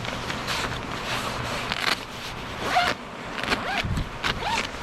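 Zippers on the legs of motorcycle riding gear worn for a freezing commute on an NC 750X DCT, several close, ratcheting zip pulls with rustling fabric between them.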